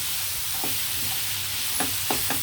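Sliced bitter gourd frying in a little oil in a pan on the stove, a steady soft sizzle with a few sharp scraping stirs near the end.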